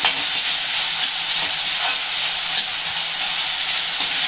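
A loud, steady hiss and sizzle of tomatoes sautéing with salt in a hot pan, continuous and close, with faint stirring and no voices.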